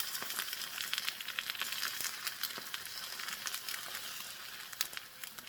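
Eggs fry in a pan over a homemade DIY stove, a steady close hiss of sizzling oil with scattered sharp pops and crackles running throughout, no voices.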